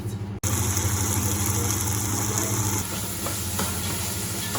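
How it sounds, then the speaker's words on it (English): A steady, close sizzle of split peas frying in a pan, a brief dropout at the start, then continuous crackling with faint stirring. "You can see that it's just starting to sizzle a little bit."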